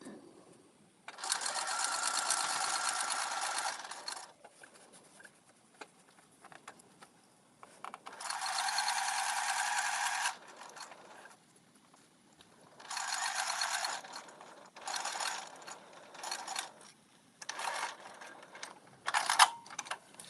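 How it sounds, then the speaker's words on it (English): A sewing machine basting an eighth-inch seam across a fabric H2O to Go bag runs in several bursts of rapid, steady whirring stitching, separated by short pauses, fairly close and clear with no talk. "I'm going to take and baste across it with an 1/8 of an inch seam allowance without even taking my thing out of the machine"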